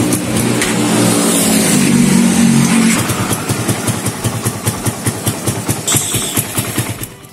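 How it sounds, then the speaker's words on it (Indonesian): A Suzuki Satria FU motorcycle engine runs close by, a steady loud drone for about three seconds that then settles into a rhythmic, pulsing idle with a brief rise in revs near the end. "kita hidupkan dulu motornya."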